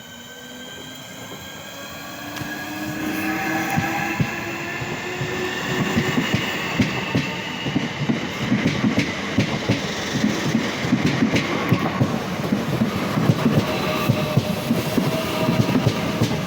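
A Class 465 electric train departs Sevenoaks station, its motors whining and rising in pitch as it pulls away, with a growing rumble and rhythmic wheel clatter, close and loud.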